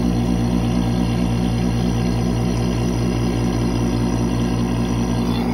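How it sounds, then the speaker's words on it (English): A vacuum pump runs continuously while testing a car brake booster, a loud, steady mechanical drone with a fast, regular pulsing throb and no pauses. "I'm going to turn on the vacuum pump and pump it some."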